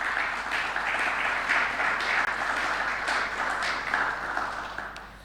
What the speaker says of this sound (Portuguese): a quem peço desde já uma salva de palmas